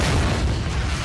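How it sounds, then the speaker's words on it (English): A loud, rumbling arrow explosion in a video game, with a dense, boomy roar that sustains throughout. "Whoa, arrow explosion!"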